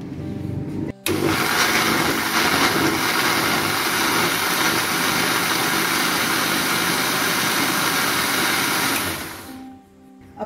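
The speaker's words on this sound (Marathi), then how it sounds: "मी आता मिक्सरमध्ये फिरवते" A kitchen mixer grinder starts with a brief catch, then runs at a loud steady whir for about eight seconds while blending coriander, mint and amla juice, and winds down at the end.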